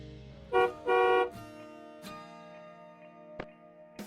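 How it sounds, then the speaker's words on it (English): A taxi's car horn gives two short honks, the second slightly longer, then a quiet stretch with faint background sounds. "Taxi."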